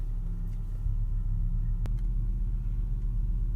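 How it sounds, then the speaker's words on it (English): A 1999 Volvo S70 with a check engine light on is driven, giving a low steady engine and road rumble from inside the cabin with a faint brief tick partway through. "I'm going to do a little bit of driving"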